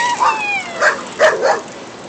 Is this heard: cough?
no